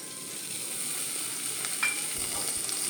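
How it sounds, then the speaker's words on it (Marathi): Dried prawns crisping in hot oil for Goan kismur give a soft, even sizzle that runs steadily throughout, heard quietly and alone. "आतां हांव तांकां मातशें फ्राय करता ऑयल घायलो असो"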